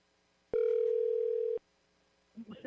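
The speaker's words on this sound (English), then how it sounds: "We'll go back to Janet Brown now that we have the correct phone number" A steady telephone tone sounds for about a second while a participant is dialed into a city redistricting task force meeting, followed by a brief voice.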